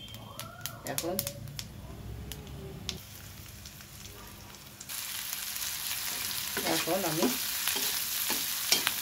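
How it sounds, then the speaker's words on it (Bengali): Onion, green chili, dried chili, cardamom and cinnamon fry in oil in a pan for egg dal. A soft sizzle runs under a voice, then grows louder and brighter halfway through as stirring scrapes are heard. "পেঁয়াজ, কাঁচামরিচ, শুকনো মরিচ, এলাচ, দারুচিনি সব কিছু খুব ভালো করে ভেজে নেব"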